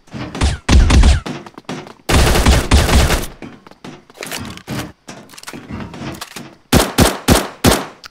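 Gunfire in the mobile shooter game Bullet Angel, loud bursts of rapid shots and single cracks in uneven clusters, close and punchy.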